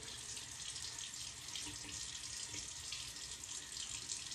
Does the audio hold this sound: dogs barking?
no